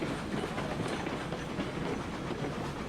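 Model locomotives hauling a train on a layout, a continuous rolling rumble with faint wheel clatter, steady and close with no talking.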